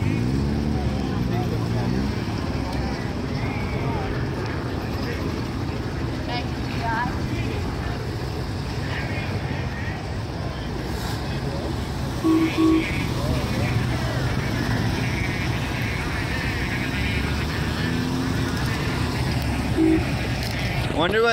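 A 1995 Ferrari idles with a steady low, throaty rumble at a car auction, while a person talks over it nearby.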